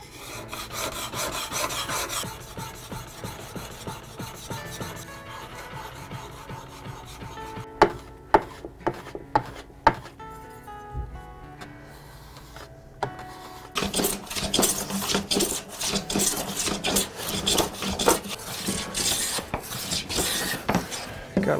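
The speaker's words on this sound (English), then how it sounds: "Let's do some sharpening." A woodworking tool is sharpened with a hand file in steady rasping strokes, close and dry, with a few sharp clacks midway before faster, rhythmic filing resumes.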